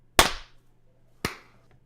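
Two sharp, close hand claps about a second apart, each a crisp single snap with a short decay, set off by podcast hosts to sync their recording, with nothing else around them.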